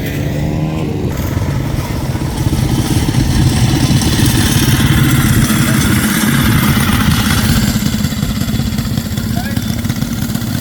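A small Tecumseh minibike engine revs loudly and continuously at a minibike race, a buzzing rattly roar that stays close and steady throughout, with voices barely audible beneath it.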